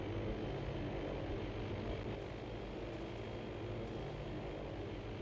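Steady droning engine of a bomber aircraft in the Arma Antistasi game, a constant low propeller hum holding at an even level throughout with a few faint clicks on top.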